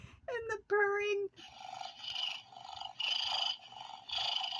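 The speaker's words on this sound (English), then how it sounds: "and the purring." A toy noise maker gives a brief meow, then a rhythmic cat purr of rising and falling breathy pulses that keeps going at moderate volume.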